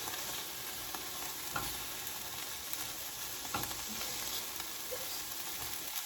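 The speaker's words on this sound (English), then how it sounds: "We are waiting for these to sear up a little bit." Asparagus and other vegetables searing in a hot pan beside scrambled eggs, a continuous close sizzle with occasional utensil scrapes and taps, no voices.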